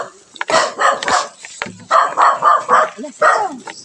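A dog barks several times in a quick series of sharp, fairly close barks, with people's voices mixed in around them.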